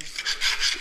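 A scraper rasps leftover tile adhesive off a floor before grouting, a few quick dry scraping strokes, close and fairly quiet, with no voices.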